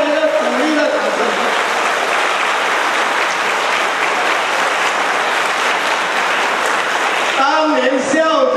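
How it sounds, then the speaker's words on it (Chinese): A crowd at a twenty-fifth class reunion claps in sustained encouragement, dense and steady for about seven seconds before it thins out. A voice speaks near the end. "给大家一个鼓励的掌声"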